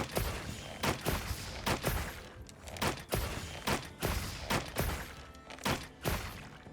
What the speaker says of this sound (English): quick shot, power shot, and then a power volley